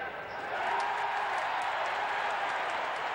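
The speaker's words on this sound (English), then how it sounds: "This crowd, every once in a while, yelling and screaming." A stadium crowd at an NFL game between the Lions and Saints roars in a dense, steady wash of yelling, loud and sustained, with a commentator's voice talking over it.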